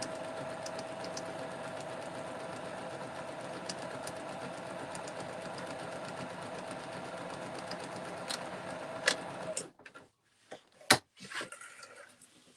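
A sewing machine stitches a straight seam on a gift bag, a steady close mechanical whirr running without pause for about ten seconds, then stopping abruptly and leaving a few quiet handling clicks and knocks.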